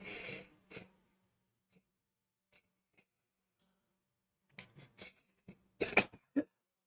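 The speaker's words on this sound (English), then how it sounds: "I don't like sneezing." A single person sneezing indoors: a few faint throat noises and short breaths, then a sharp, loud burst near the end followed by a brief snort.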